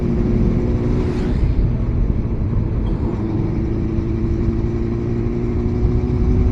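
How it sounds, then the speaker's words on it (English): A four-cylinder Honda CB400 Super 4 motorcycle engine runs loud and close, a steady low throbbing hum with one brief lift in the revs near the start, no voices over it. "Rev the bike a few times."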